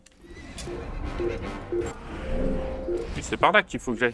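A horse in Assassin's Creed whinnies in a series of loud, close, quavering neighs, with hoof clops at the end, while someone talks over part of it.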